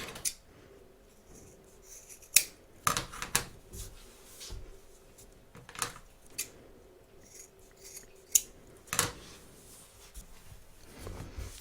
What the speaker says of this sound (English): we're just going to cut our corners across, taking care of course not to cut any stitches